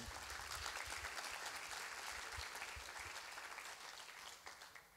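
Audience applause at an evening event, a dense, steady patter of many clapping hands that holds for several seconds and then gradually tapers off.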